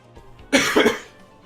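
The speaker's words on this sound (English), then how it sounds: "This is the cough that I was talking about earlier" A single harsh cough, close and fairly loud, with a brief double burst, standing alone against a quiet background.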